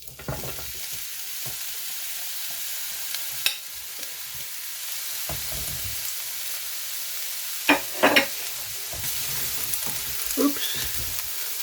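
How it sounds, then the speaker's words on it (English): Peppers and onions sautéing in a pan, with a steady close sizzle underneath and occasional scraping stir sounds and clinks from a utensil. "we're going to saute our peppers and onions now."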